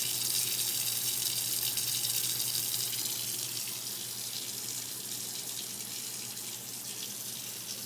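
Tap water runs steadily into a sink as dirty hands are washed, a constant broadband gush at close range that eases slightly in level toward the end, with no talking.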